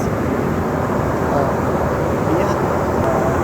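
Steady broadband roar inside the cabin of a United Embraer E145XR regional jet in flight, a continuous even drone with no breaks and no talking.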